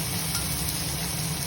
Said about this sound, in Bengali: প্রথমে আমি এটাকে ভেজে নিচ্ছি, হালকা হালকা হাতে ভেজে নিচ্ছি